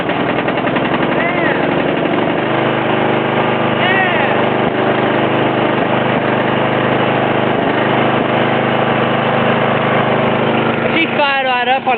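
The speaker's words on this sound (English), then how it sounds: "Today I'm going to try to start the green Craftsman lawnmower and the Troy-Bilt push mower." A Craftsman riding lawn mower or Troy-Bilt push mower engine runs loud and close, holding a steady rough drone with some rattle and uneven pulses. A voice speaks briefly over the noise near the end.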